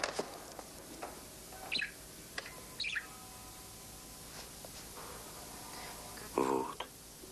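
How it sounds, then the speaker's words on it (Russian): Parrot calls in a film scene, a few short chirps and squawks scattered among quiet room sounds, with a louder burst near the end; people speak nearby. "Я попугая принес."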